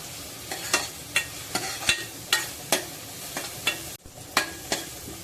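Onion fries in a pan over medium heat for an Agri-style cowpea, eggplant and potato curry, a constant sizzle marked by a regular series of crisp spatula scrapes, close and fairly loud.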